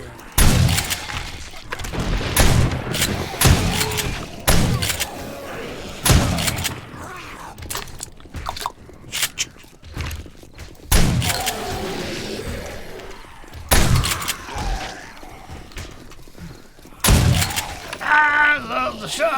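Shotgun blasts in the zombie survival game 7 Days to Die, a series of loud, punchy booms fired at irregular intervals with thuds and clatter between them and a voice talking over the action.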